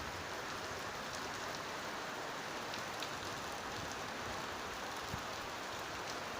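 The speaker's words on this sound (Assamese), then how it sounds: "আপোনালোকে চাব পাৰে যি দবাপিটা বৰষুণ দিছে।" Heavy monsoon rain pours steadily on the road between Guwahati and Sivasagar, a dense, constant hiss with no let-up, loud and close, with no voices.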